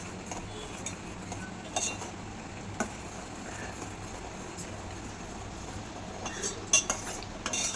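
A utensil scrapes and clinks against a pan in slow, irregular strokes as butter melts into ghee, over a low, steady background hum.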